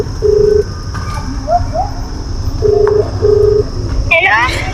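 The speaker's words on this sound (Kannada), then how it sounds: "ಅವ್ನು ಫೋನ್ ಮಾಡ್ತಾ ಇದ್ದಾನೆ" Three short electronic beeps from a phone being dialed, spaced apart over a constant low background hum, with faint voices and a brief higher warble near the end.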